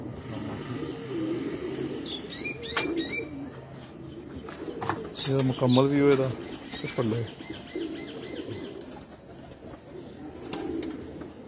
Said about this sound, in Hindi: बहुत नायाब कबूतर